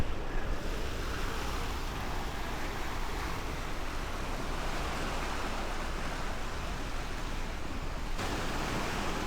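Sea waves wash against a rocky shore near Alicante, a broad continuous roar mixed with wind buffeting the microphone, steady and fairly loud, with no talking.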